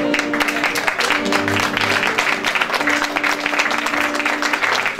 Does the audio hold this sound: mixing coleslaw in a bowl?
no